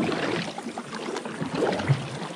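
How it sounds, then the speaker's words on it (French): Oars splashing and water trickling as a group rows a boat on a river, faint and close, with soft irregular dips over about two seconds. "Alors là on est tous en train de ramer."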